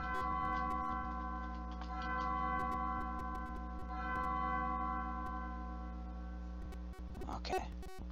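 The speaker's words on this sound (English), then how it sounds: "Ring the bells now." Bells ring with sustained, overlapping tones that hold steady and loud for about eight seconds, with a few lighter ticking strikes near the end and no voices.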